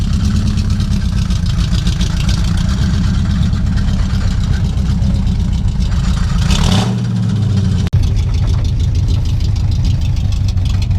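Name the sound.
big truck engine idling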